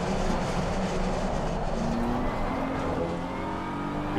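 A BMW M4 GT3 race car engine drones steadily in Assetto Corsa Competizione, loud and continuous with faint tire squeal and sliding under a constant roar, no talk.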